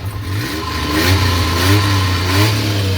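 A car engine runs with no drive belt fitted, holding a steady mid-pitched hum that rises and falls through a few small revs, close and fairly loud throughout.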